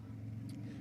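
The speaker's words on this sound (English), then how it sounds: "he's in the car behind us, giving us quite a lot of noise at the moment" Race car engine from a GT or prototype car following close behind on the Portimão circuit, a steady loud low rumble filling the short moment with no speech.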